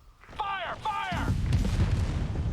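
Dense low rumbling bursts of gunfire and explosions in the game Tempest Rising, with shots at barrels, following a voice speaking, continuing steadily to the end at moderate loudness.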